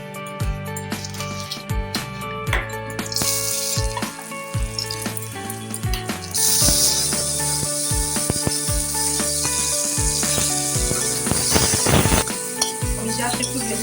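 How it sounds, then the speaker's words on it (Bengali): Dates, cashews and raisins fry in a pan of ghee with a steady, close sizzle. Clinks and scrapes from stirring break through it at intervals. "এগুলোকে আমি গাওয়া ঘিয়ে ভেজে নেব।"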